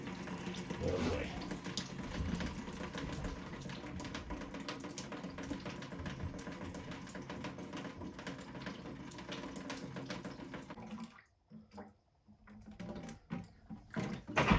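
Water pours and splashes steadily from a cut household supply pipe during a ball valve shutoff install, a continuous close rush that drops off near the end into quieter trickles and handling noise.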